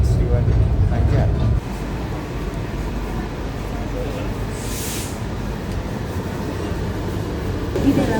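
Inside a Pangandaran panoramic class passenger train, a steady rolling rumble and hiss fill the carriage throughout, slightly louder in the first second and a half, then holding even and continuous.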